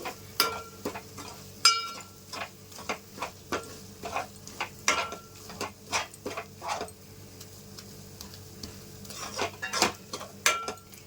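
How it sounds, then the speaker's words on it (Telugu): A spatula stirs and scrapes a pan as ground dried coconut is fried with masala for a pond-fish curry, giving irregular sharp clinks and scrapes over a faint, low sizzle, with no talking. "కొబ్బరి పొడి కూడా వేసేసి బాగా వేయించుకోవాలి"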